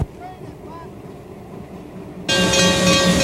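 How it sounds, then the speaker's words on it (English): Former Canadian National steam locomotive 7470 rolls out of the old Boston and Maine roundhouse at the Conway Scenic Railroad on a summer morning, a steady low rumble that suddenly swells into a loud, bright hiss and roar partway through. "former Canadian National Locomotive 7470 moves out of the old Boston and Maine roundhouse"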